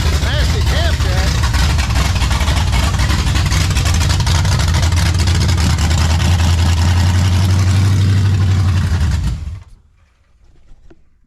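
A Lincoln Town Car's 460 V8 with an aggressive camshaft idles loud and close, a lumpy, loping rumble that runs steadily before cutting off abruptly near the end, with someone talking over it.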